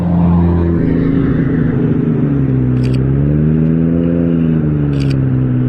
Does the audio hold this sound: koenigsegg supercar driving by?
yes